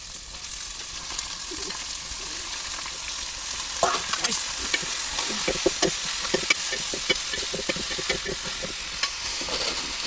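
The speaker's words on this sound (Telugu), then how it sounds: "నేనైతే ఇప్పుడు చికెన్ వేస్తాను" Chicken pieces sizzle and fry in a pan for curry, a steady loud hiss with scraping stirs and clinks of a spoon against the pan, no talking.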